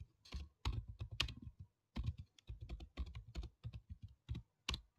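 Close, quiet keystrokes clatter on a computer keyboard in irregular clusters with brief gaps, and no voices are heard.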